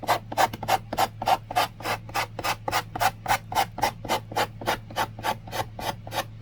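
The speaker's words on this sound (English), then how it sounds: "Let's get those sides right off with the sanding block." Steady back-and-forth rasping of a sanding block on wood, about three strokes per second, close and even in rhythm with a low hum beneath.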